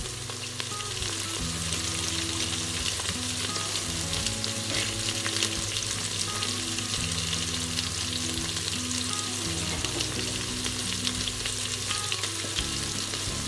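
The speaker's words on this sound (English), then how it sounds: "And those onions are just cooking away quite nicely." Onions and two lamb bones frying in a pot for lamb pilau: a dense, even crackling sizzle that runs steadily throughout beneath a constant layer of background music.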